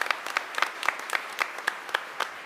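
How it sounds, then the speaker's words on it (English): A room at a school board meeting claps for students, with scattered, distinct individual claps repeating in an uneven rhythm, fairly sparse and moderately close, with no voices over it. "We can give them one more big round of applause."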